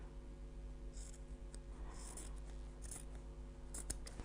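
Scissors snip fabric seam allowance after sewing, a series of faint, crisp cuts in irregular rhythm, close by and quiet over a low background hum.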